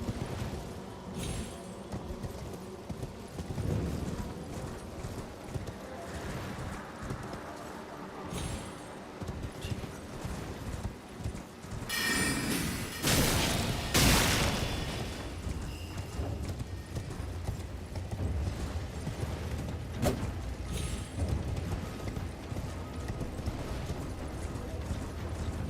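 Horse hooves clip-clop at a steady walking pace in the video game Elden Ring, with a few mechanical clunks and a burst of louder rattling midway; no talking.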